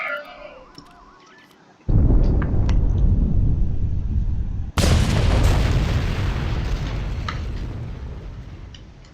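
Two heavy explosions in the video game Star Trek Online: a sudden boom at about two seconds and a sharper, louder blast a few seconds later, each trailing off into a long, rumbling roar.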